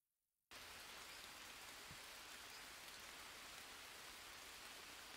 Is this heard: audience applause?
no